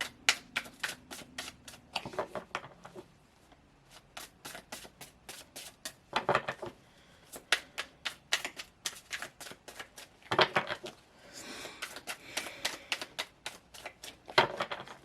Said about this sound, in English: part of doing tarot is shuffling